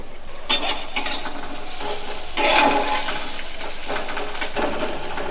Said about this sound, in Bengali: পেঁয়াজটা আমি আলাদা করে ভেজে নিচ্ছি অল্প করে।